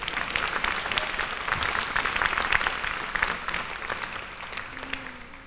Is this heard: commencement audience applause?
yes